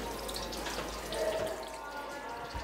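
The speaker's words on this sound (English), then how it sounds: "I love hearing the water drip in, and as I look up to the ceiling, I can see the stalactites forming." Water dripping inside a limestone cave with stalactites and cedar-lined chambers, giving a diffuse, wet ambient patter with soft drips under a faint room hiss, without clear distinct individual drops.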